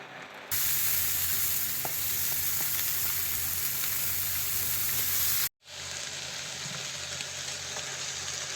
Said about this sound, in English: I'm frying the potatoes with some butter here.